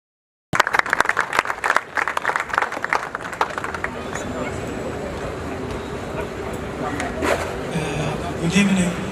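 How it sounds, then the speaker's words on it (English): Audience applause at a culture festival evening, a loud sustained burst of clapping that starts abruptly and holds steady for about nine seconds, with crowd murmur running beneath it. "we're going to be calling for everybody giving him a round of applause"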